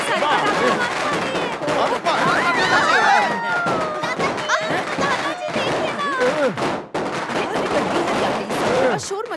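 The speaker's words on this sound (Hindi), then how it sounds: "अरे ये पटाखा का आवाज कैसा है?" A rapid string of firecrackers bursts in sharp popping volleys at home, mixed with excited shouting voices and chaotic commotion.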